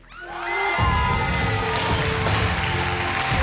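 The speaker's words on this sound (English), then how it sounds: "the kitchen erupted with applause as everyone reacted to the news" A MasterChef kitchen bursts into cheering, whoops and applause for the winner, a loud crowd roar rising fast and sustained with shouted voices.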